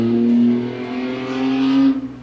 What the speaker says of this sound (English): Ah, motorcycle season.